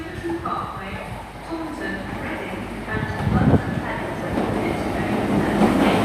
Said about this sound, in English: coming in now is the 1703 service to London Paddington from Penzance, I believe, is the Royal Duchy service